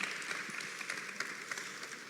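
Audience applause in a Portuguese talk-show studio, a steady patter of many hands clapping at moderate level throughout, fairly distant and even, with no talking over it.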